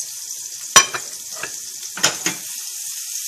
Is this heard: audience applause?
no